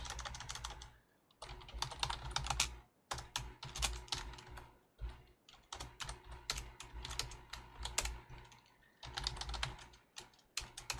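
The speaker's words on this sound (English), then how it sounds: "Let's try typing that up really quick." Typing C++ code on a computer keyboard, close and fairly quiet, with rapid clusters of key clicks separated by brief pauses over about eleven seconds.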